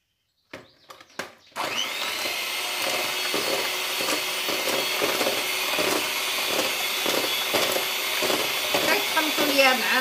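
An electric hand mixer whirs steadily through cake batter with yogurt after a few short clicks and bumps, running continuously at close range with a rhythmic pulsing as the beaters move through the bowl.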